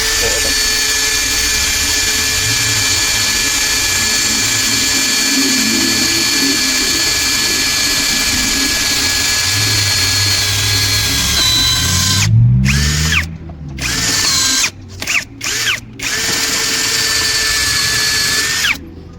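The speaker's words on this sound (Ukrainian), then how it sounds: "Сверло діаметром 6 мм з набору з Аліекспреса." A Procraft PA 18 cordless drill bores into metal with a 6 mm AliExpress bit, a loud sustained high whine with pitch shifts under load, then several short stop-start bursts near the end.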